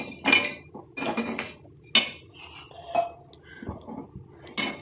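A metal pan of herbal black-cumin hair oil is set down on a stove, giving several sharp clanks and clinks of metal, close and irregular, with short quiet pauses between.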